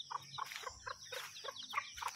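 Hens and chicks cluck in a quick series of short, soft calls, fairly close in an outdoor yard with a faint background.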